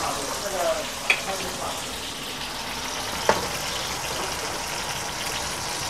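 Fish with its skin on pan-fries in a pan with a steady, hissing sizzle, broken twice by sharp little pops or clicks; the sound is close and continuous.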